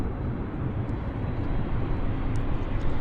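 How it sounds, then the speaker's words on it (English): Air Canada airplane departing Vancouver Airport, a loud steady broadband engine roar dominated by low rumble, sustained without letup and no voices. "First class departure by Air"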